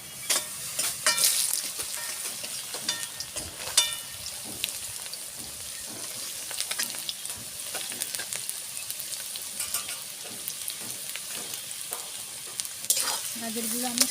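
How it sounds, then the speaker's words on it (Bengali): Chopped carrots fry in hot ghee and oil for a Bengali matar rice, a steady close sizzle with occasional stirring scrapes and clinks, no talking. "গাজরগুলো আমি একটু ভালোভাবে ভেজে নেব।"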